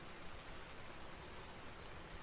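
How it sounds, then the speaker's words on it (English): Rain falling in the video game Vintage Story, a steady, faint hiss of dense drops with no breaks and no voices. "That's why it sounds like rain. It's raining."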